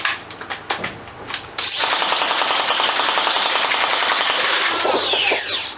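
Half-dart FTL3 foam blaster fed from a 50-round drum fires a sustained rapid burst lasting about four seconds, a dense mechanical rattle following a few separate clacks of priming.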